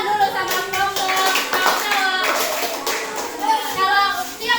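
A classroom of pupils claps for a group of young children, rhythmic hand claps mixed with children's voices and chatter close by.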